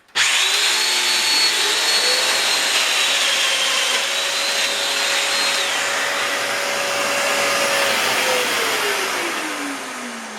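A Festool Domino joiner runs loud and close while cutting holes in bed box boards, a continuous motor whine whose pitch dips and rises as it plunges into the wood, then stops abruptly.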